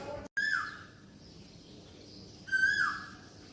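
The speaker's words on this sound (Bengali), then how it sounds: "কোকিলের ডাক" An Asian koel calls twice, each a clear rising then falling whistled note, about two seconds apart, fairly near against quiet background hiss.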